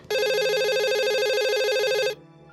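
A telephone rings in one continuous electronic trill lasting about two seconds, loud and close, then cuts off abruptly into quiet, used as a horror sound effect in an empty office.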